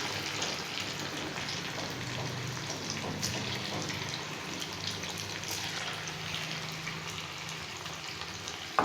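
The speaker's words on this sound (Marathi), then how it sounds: "तेल गरम झालं की याच्यामध्ये भजी घालून घ्यायचे" Poha bhaji fritters deep-fry in hot oil in a kadhai, producing a constant soft bubbling hiss that holds steady and fairly quiet throughout, with a small clink at the very end.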